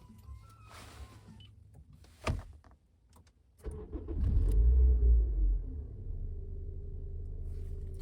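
Interior of a 2009 Honda Civic 1.8 petrol sedan on the move: a low, steady engine and road rumble that swells for a moment, then settles into a quiet, even cabin hum, with a couple of brief clicks and thumps early on.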